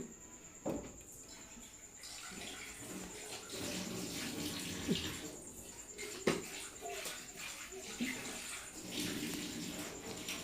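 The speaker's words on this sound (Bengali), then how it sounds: "তো কষানোর শেষে হচ্ছে জলের পানিটাও দিয়ে দিচ্ছি এখানে পরিমাণ মতো" Water is poured into a pan of potatoes sautéing with spices, a faint, uneven splashing and gurgling with a few sharper clinks, quiet and somewhat distant over about ten seconds.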